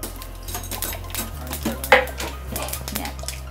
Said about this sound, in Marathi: मोहरी तडतडली आहे